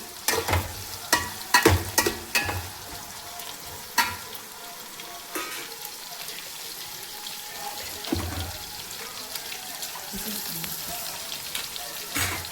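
Onion pieces sauté in a pan for sambar, with a busy opening of spoon clatter and stirring knocks giving way to a continuous, nearby sizzle and occasional scrapes.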